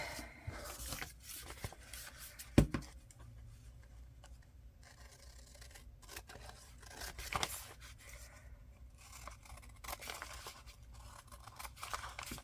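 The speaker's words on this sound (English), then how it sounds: "I'm just going to roughly cut around this" Scissors snip roughly around a piece of glued paper in quiet, intermittent cuts, with a few sharper snips and faint paper rustling between them.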